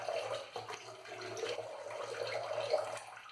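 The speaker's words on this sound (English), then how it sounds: "once I squeeze out this water, it holds quite a bit" Water squeezed from a wet shaving brush, a close watery splatter and trickle that comes in uneven surges over a few seconds, with a faint low hum underneath.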